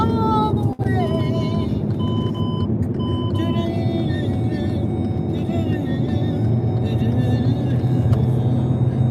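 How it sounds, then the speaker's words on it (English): Oversized truck passing on a road, a steady low engine rumble and tire roar with some tonal whines and beeps over it, fairly loud throughout as people talk over it. "There's an oversized truck,"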